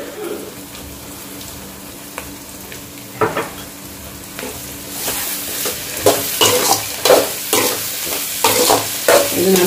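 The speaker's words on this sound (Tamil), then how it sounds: "இந்த வெங்காயத்தை போட்டு வதக்குறேன்" Onions and green chillies sauté in a pan, with a quiet sizzle at first that grows louder and busier, punctuated by repeated scraping stirs and clatters near the end.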